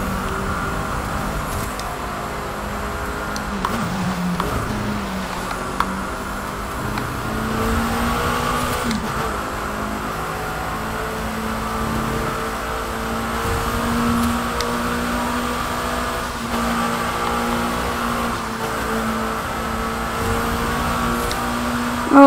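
A KTM X-Bow engine in The Crew 2 drones steadily along a straight, its pitch climbing and settling through gear changes in a loud, close, sustained hum.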